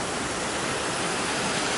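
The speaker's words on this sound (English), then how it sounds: "We made it to the falls." A waterfall at Hetch Hetchy roars as a constant, loud, broadband rush of falling water, close and unbroken, with no voices.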